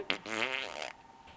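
A person imitates a fart with the mouth, one short, close buzzing raspberry lasting under a second, followed by quiet.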